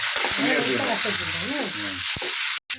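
Mustard seeds and curry leaves spluttering in hot oil for lemon pickle, a loud close sizzle with sharp pops, under a voice talking briefly.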